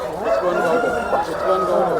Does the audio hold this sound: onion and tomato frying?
no